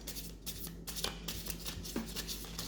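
Sun and Moon Tarot deck being shuffled by hand, a quiet run of soft riffling and card-slapping bursts repeating at close range, with no voices.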